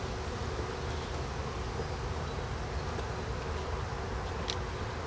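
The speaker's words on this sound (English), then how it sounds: "Now we've got bees on here." Honey bees buzz in a dense, steady drone throughout an open hive inspection, close and continuous with no talk.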